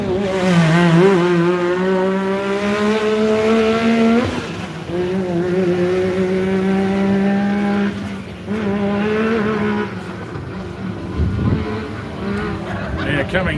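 A Yamaha racing toward the finish line screams past with a loud, rising then falling engine whine across repeated gear changes, while a commentator talks over it.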